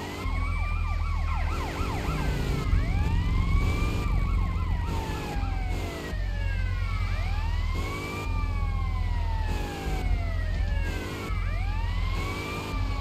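Police car sirens in the video game GTA Liberty City Stories, several overlapping wailing and yelping tones sweeping up and down continuously over a low engine rumble, loud and close throughout.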